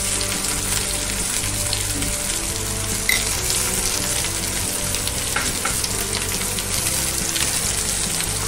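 Sesame seeds fry in hot oil in a pan for raw mango and carrot chutney, giving a steady, close crackling sizzle with faint stirring throughout.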